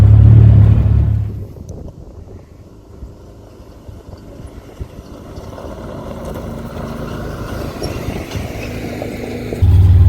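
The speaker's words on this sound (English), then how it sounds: "this machine I'm in now is the Defender Max, the 6-wheel drive version" A Can-Am Defender Max six-wheel-drive UTV engine runs loud and steady at first, drops to a quieter low drone as it crawls over rock, then revs up again near the end, with no talk.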